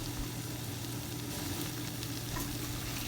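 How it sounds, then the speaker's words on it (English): Vegetables for veg pulao sizzle continuously as they are stirred and fried in a pan, with a dense, even crackle and faint scraping of the stirring throughout. "Stir the vegetable for minimum 2 to 3 times within that 8 minutes."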